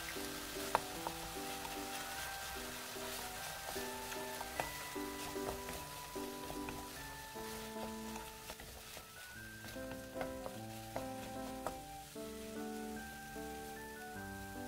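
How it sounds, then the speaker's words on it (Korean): Crumbled tofu and two beaten eggs stir-fry together in a pan, giving a soft, continuous sizzle. The sizzle sits beneath louder melodic background music. "가운데다가 계란 두 개를 풀어서 함께 볶아주세요"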